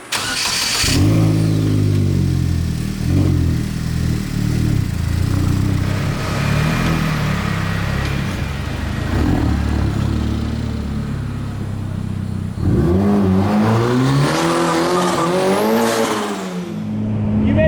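A Goblin car's engine revs and accelerates loudly throughout, with rising and falling harmonic sweeps and a stronger, climbing rev burst toward the end.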